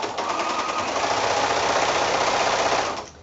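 A sewing machine stitches quilt patches in one continuous rapid burst of close, rattling needle strokes, then stops abruptly at the end.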